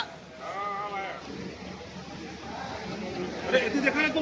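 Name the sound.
goat bleating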